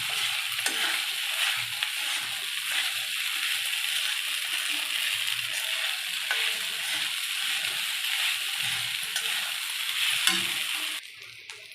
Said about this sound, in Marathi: थोडा साबुदाणा आपण ह्याच्यामध्ये तेलामध्ये परतून घ्यायचं आहे